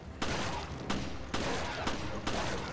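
Gunfire from Resident Evil: Revelations comes as five loud, evenly spaced shots, each a sharp broadband blast with a short decay, close and alone.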